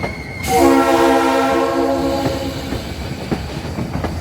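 The New Hope tourist train sounds a loud, sustained multi-tone horn blast for about two seconds, then rolls on with a steady rumble and scattered rail clicks.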